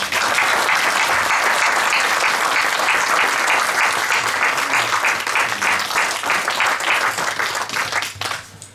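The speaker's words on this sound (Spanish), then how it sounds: "a nuestro ponente, Rafael Pujol, para el que pido un fuerte aplauso" An audience at a lecture on Cantabrian demography at the Casa de Cultura in Torrelavega gives a strong, sustained round of applause that fills the room, then thins and fades out near the end.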